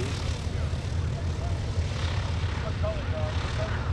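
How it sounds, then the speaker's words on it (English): A B-17 bomber's propeller engines drone loud and continuous through its landing at a World War II airshow, a deep steady rumble with a broad rushing wash of wind and engine noise and no clear break. "Nice real landing on the B-17."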